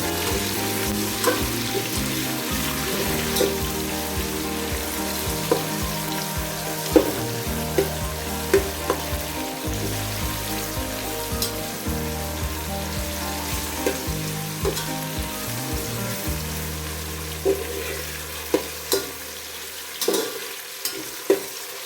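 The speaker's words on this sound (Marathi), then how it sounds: "कांदा थोडा परतलेला आहे. आपण तर टोमॅटो टाकूया, म्हणजे दोन्ही एकत्र छान परतले जाते." Onion and tomato sautéing together in a pan, a steady bubbling sizzle with occasional spatula scrapes and clinks, under a low, droning hum.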